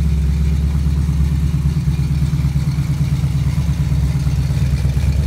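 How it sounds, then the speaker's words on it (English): A Pontiac 400 V8 runs steadily on a home engine test stand, a loud, continuous low idle with a throbbing exhaust pulse and mechanical clatter, close and alone with no talk. "seeing the easy run engine test stand with our new Pontiac 400 engine"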